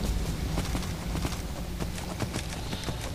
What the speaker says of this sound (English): We now have a spectral horse.